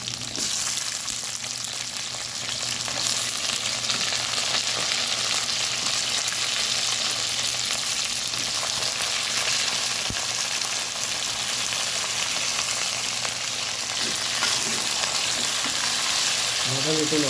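Drumstick pods and brinjal pieces sauté with onion and green chilli in a pan for a spicy tamarind curry. A steady, close, even sizzle runs unbroken throughout, with faint clinks near the end.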